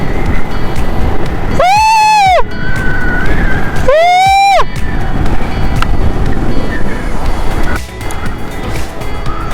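Strong wind sweeps across open green fields beside a road, a steady loud roaring rush buffeting the microphone throughout, with two brief high wavering tonal calls rising over it near the start.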